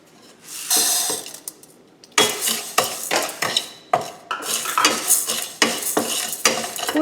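Toor dal being dry roasted and stirred in a pan, with a rushing scrape of dry lentils and repeated clattering knocks of the spoon against the pan, close and fairly loud.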